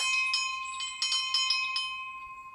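A bell at a door rings with bright metallic strikes, several quick clangs in succession with a sustained ringing tone that lingers and fades.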